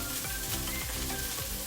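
Garlic and onion browning in a pan give off a soft, continuous sizzle with faint stirring movement, heard close but at low level for a brief moment without talk.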